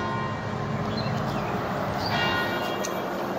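Distant church bells chiming the hour in Wilmington, North Carolina, tones ringing out over a steady background hum, faint and spaced apart.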